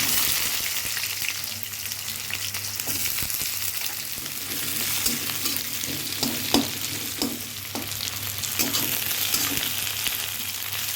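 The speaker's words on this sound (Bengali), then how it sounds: "এবার দেবো একটু কালো জিরে, শুকনো লঙ্কা ফোড়ন, এবার দেবো পেঁয়াজ" Sliced onion fries in mustard oil with nigella seeds and dried red chilli, producing a steady, close sizzle broken by the scrapes and knocks of stirring in the pan.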